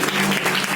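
Brief, loud burst of clapping from an audience at a school event, applauding children after a Father's Day activity, heard up close for under a second with no talking.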